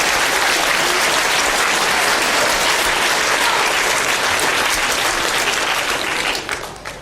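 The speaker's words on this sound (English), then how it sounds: "give yourselves a big round of applause." A lecture audience at the Royal Institution breaks into a big round of applause, loud, dense and continuous for about six seconds before tapering off at the end.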